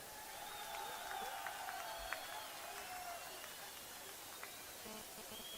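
A large outdoor crowd applauds in Srinagar to welcome Rahul Gandhi, a steady, distant wash of clapping and murmuring voices that stays even throughout, with faint shouts rising above it.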